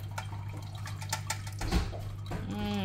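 Sauce drains through a kitchen strainer into a sink, giving faint trickling and dripping with small splashes, soft and close, rising briefly near the end.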